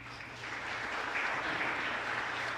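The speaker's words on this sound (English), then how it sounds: "Let's give him a big round of applause." An audience applauds at a conference, a dense, steady wash of clapping that holds for a few seconds with no voices over it.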